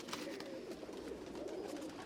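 Pigeons of various fancy breeds coo steadily and close by, a continuous soft warbling murmur with overlapping calls throughout.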